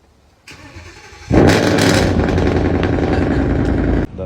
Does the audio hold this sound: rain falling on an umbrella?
no